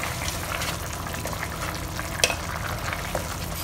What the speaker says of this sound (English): Give it a good stir, mix it up really well.